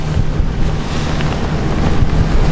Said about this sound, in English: big waves here, big chop.